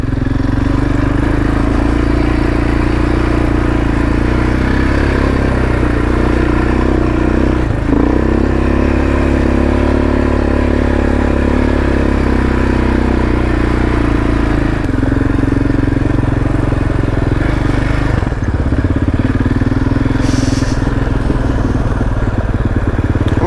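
An ATV with a Rotax engine grinds along a rocky trail, its loud engine running continuously throughout. The engine note surges and dips with throttle changes, and occasional clatter and knocks from the rough ground come through.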